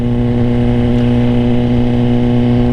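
A 2024 Suzuki GSX-R 1000 motorcycle being ridden, its engine a loud, close, steady drone holding an even pitch throughout, with no speech.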